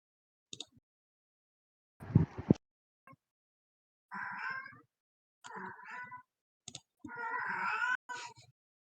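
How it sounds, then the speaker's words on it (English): A cat behind a closed door chirps and meows loudly in short, separate bursts with pauses between them, plus a few quick clicks and a brief rustle. "One sec, the cat's being super loud."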